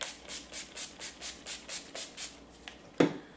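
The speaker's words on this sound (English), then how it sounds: "I set it again with my NYX Matte Finishing Spray" Short hissing spritzes of a NYX Matte Finishing setting spray bottle, about nine quick even bursts in a steady rhythm, close up, then a louder knock at the end.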